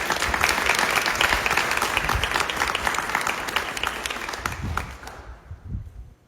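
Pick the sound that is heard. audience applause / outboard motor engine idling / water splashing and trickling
audience applause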